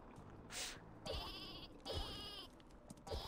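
Repeated sheep bleats in the game Worms WMD, three or four wavering calls spaced about a second apart, clear and upfront over low game ambience with no talking.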